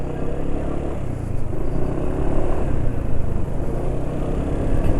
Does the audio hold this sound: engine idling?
yes